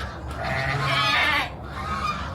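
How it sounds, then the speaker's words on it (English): A goat or lamb bleats loudly and close by in a single drawn-out cry, followed by a softer bleat, among a group of goats and baby lambs. "Here's some lambs and goats and stuff."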